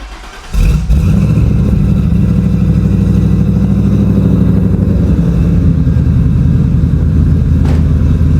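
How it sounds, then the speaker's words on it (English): A car engine fitted with race bullet mufflers cranks and fires up, then settles into a loud, deep, lopey idle with a heavy rumble, very close and steady. "Let's do a first fire up on these race bullets, see what she sounds like."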